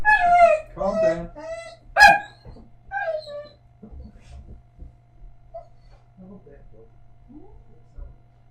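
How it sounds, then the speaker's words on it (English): A dog barks excitedly and whimpers at someone arriving at the door, with a few loud yips near the start, then quieter whines and snuffles while a person talks over it close by. "Dog's gone. She's just crazy."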